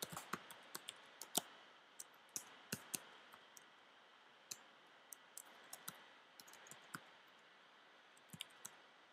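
Typing on a computer keyboard to enter a word into a design program's text tool, heard as a quiet, irregular run of light clicks and key taps spread across the clip with no talking.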